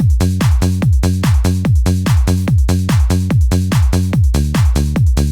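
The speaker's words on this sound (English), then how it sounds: "that perfectly demonstrates what the Offbeat bassline sounds like" Offbeat bassline for hard house and trance: a loud, steady electronic bass stabbing on every offbeat between punchy kick drums, repeating evenly and alone without any voices.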